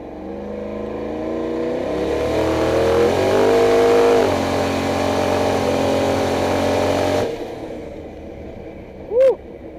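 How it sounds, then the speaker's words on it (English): A pickup truck doing a brake stand revs its engine into turbo boost. The loud engine note climbs and holds for several seconds, then cuts off abruptly, leaving a quieter idle and a brief high tone near the end. "How about I just brake stand it a tiny bit into boost?"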